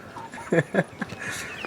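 Hen clucking in short, close bursts, a few soft calls spaced over under two seconds with light background noise, in a backyard setting by a homemade nest box.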